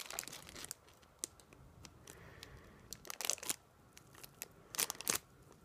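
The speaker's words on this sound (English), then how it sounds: "let's just go ahead and cut this open really quickly. So let me get my scissors." Crinkly, hard plastic figure packaging rustling and tearing as scissors snip and crunch through it, close up, irregular bursts clustered near the middle and end.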